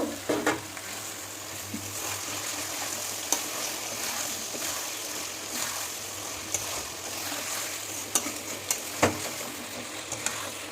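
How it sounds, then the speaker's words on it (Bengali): Tomatoes fry in chicken pulao masala for a Bengali-style basmati chicken pulao, a steady, moderately quiet sizzle broken by occasional sharp spatula clicks against the pan, with no one talking. "এবার দিয়ে দিব এর মধ্যে টমেটো দিয়ে আবার ভালোভাবে কষিয়ে নেব"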